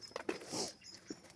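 A guard dog gives a few faint, brief whimpering yelps outdoors at dawn, quiet and short against a soft background.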